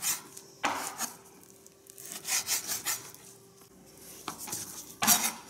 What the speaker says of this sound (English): We're just going to cut this up.